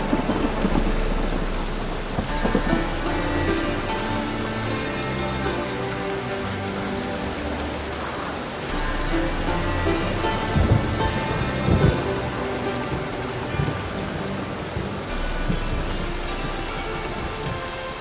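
Steady rain pours down while low thunder rumbles and rolls through, swelling now and then over the constant patter.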